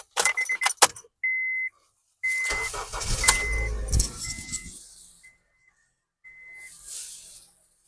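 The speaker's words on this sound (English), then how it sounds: "Car does start up" A car starts up after keys go in: a jangle of keys and a few clicks, then a near engine cranks and catches with a low rumble for a couple of seconds, followed by faint chimes and quiet hum.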